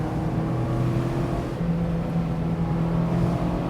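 A 2024 Mazda MX-5 Miata drives on an open road with a steady, close engine drone heard from inside the car, and the engine note shifts pitch partway through.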